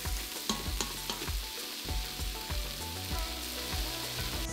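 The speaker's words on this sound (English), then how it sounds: "add the carrots and celery and saute for another 2 minutes" Onions, carrots and celery sauté in an Instant Pot for borscht, giving a steady loud sizzle with repeated stirring scrapes and clacks throughout.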